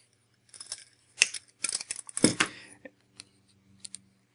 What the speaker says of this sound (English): Now I'll cut the excess.